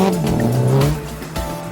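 A world rally car passes close and loud, its engine note sliding down as it goes by, with tyre roar and gravelly road noise, and no talking.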